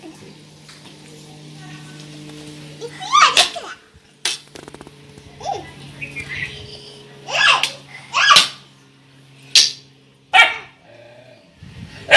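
A dog barks in sharp bursts, about seven or eight times at irregular intervals, with voices and a steady hum underneath.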